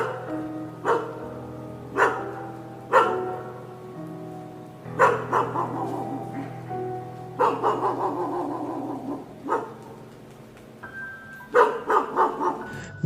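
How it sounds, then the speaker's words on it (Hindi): Dogs bark outside a house: several separate bursts of barking at moderate distance, some single woofs and some quick clusters, over a low steady hum. "अचानक से हमारे घर के बाहर से कुत्तों की भी भौंकने की आवाज़ें आने"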